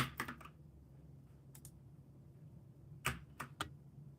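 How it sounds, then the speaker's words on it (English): Computer keyboard keys are pressed for a Windows shortcut: a few quick clusters of light clicks separated by a quiet pause, close and faint, with no talk. "Use a keyboard shortcut Windows."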